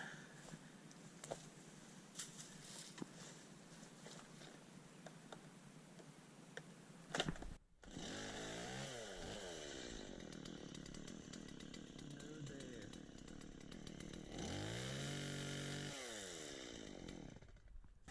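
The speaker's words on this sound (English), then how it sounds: "I'm gonna chainsaw that one." Light clicking and ticking give way to a chainsaw roaring to life close by, its engine revving up and down as it cuts back a Knockout rose bush, then surging louder near the end.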